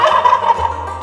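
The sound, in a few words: turkeys gobbling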